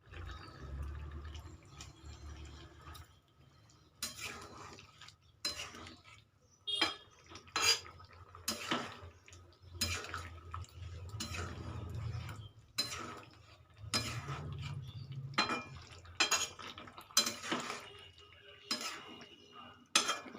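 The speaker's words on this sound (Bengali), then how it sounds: "এবার আমি একটু নেড়ে দেখব" Bengali shukto is stirred in a pot, with a spoon scraping and clinking against metal in irregular bursts over a low bubbling simmer, up close and fairly quiet.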